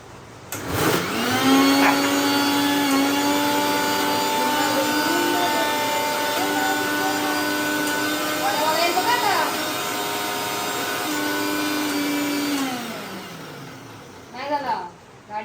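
A kitchen mixer grinder whirring steadily as it grinds medu vada batter, with a loud, sustained motor whine that spins up, runs for about twelve seconds, then winds down. A voice is briefly audible near the end.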